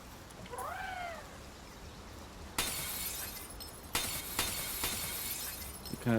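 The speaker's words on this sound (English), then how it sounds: "I would appreciate if they turn that glass breaking down a little." Glass shatters in Palworld, loud crashing bursts of breaking glass repeating several times with sharp crisp tails, after a brief meow-like call and over steady background game noise.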